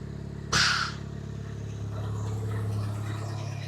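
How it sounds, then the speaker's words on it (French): Mitsubishi Evo 8 with a new Exedy twin-disc clutch, a brief clunk as it goes into gear and then a steady, moderately loud engine drone building gently, close by. "ça roule, ça passe les vitesses"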